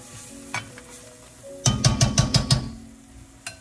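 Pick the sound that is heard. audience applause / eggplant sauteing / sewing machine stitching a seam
eggplant sauteing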